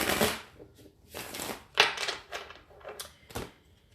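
Tarot cards are shuffled in several quick, crisp bursts of riffling and slapping, close by, with short pauses between them.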